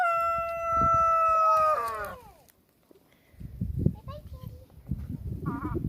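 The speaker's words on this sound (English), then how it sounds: "The roosters are ganging up on me." Roosters crow in a chicken run with strong harmonic calls in the opening seconds, followed by a short pause. Chickens then cluck and call near the microphone, and a person talks over them.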